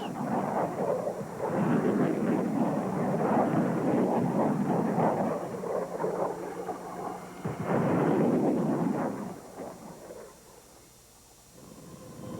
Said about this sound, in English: As we see in this test footage, the small submunitions blanket a wide area.